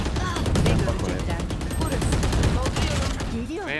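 Rapid bursts of gunfire in the video game Valorant, loud and dense, with repeated shots overlapping throughout while players talk over the action.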